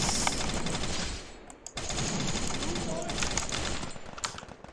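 Rapid gunfire bursts in a video game crackle through a dense, busy mix, with excited voices talking over much of it.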